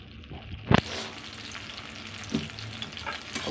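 Sankara fish frying in a pan gives a continuous close sizzle, with a sharp clatter near the start and a softer knock partway through, and no voices.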